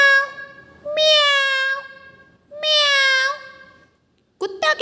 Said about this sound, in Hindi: बिल्ली कैसे बोलती है? म्याऊ म्याऊ